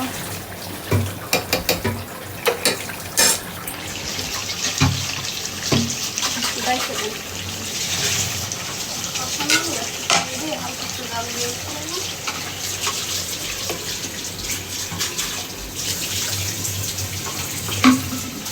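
Water runs and splashes steadily into a pot during home cooking of chicken pulao, a continuous rushing wash with clinks and kitchen clatter, while a voice talks faintly in the background.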